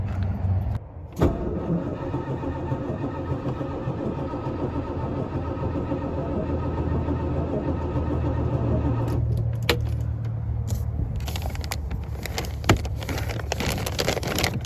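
A 1971 Century Resorter boat engine cranks and fires up on a chilly morning, a steady low mechanical drone running throughout, loud and close, with a brief catch near the start and some clatter and key-like jingles toward the end.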